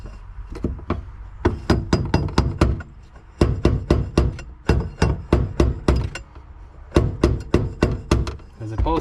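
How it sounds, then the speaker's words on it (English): Someone hammers hard on a jack extension to knock a part free from a 2006 Honda Accord during a fuel pump replacement, landing sharp metallic blows in quick bursts of several strikes with short pauses between them. "And we gonna hammer this right to get this off."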